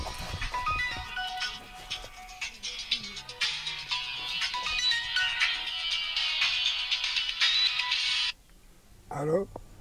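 A telephone rings indoors with a bright, warbling electronic tone that runs continuously for about eight seconds, then cuts off before a short voice is heard.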